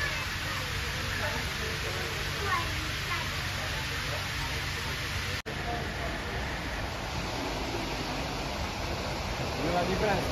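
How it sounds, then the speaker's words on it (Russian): A small waterfall at a luxury Crimean resort hotel, a steady, even rush of falling water heard close by, continuous broadband hiss with faint voices around it. "Водопадик."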